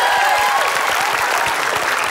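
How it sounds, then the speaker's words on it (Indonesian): A studio audience at Family 100 Indonesia, a game show, claps loudly and continuously, a dense wash of applause with faint voices underneath. "Tepuk tangan dulu dong Marmut dan Belut."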